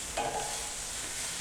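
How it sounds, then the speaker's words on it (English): A smoked leg of lamb sizzles and crackles steadily in fat, a close, continuous frying hiss with no talking. "Can you hear that sizzle?"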